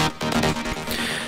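A brief burst of a synthesized mid-bass track played on the Spire synth in a synth-heavy electronic music project, dense and buzzy, rhythmic, moderately quiet, with no voice over it.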